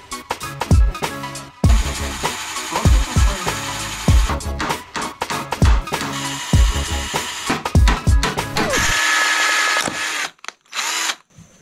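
A power drill whirs in repeated short bursts, loud and close, with brief gaps between runs and a longer steady stretch near the end.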